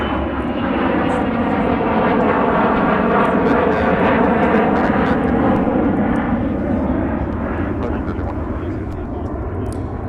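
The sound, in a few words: American Airlines jet departing MSP airport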